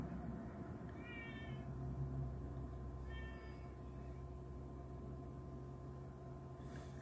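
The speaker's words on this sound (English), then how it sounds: "There's a crazy cat trying to figure out how to get in my room again." A cat outside a bedroom door meows twice, faint and distant, against a quiet steady room hum, trying to get in.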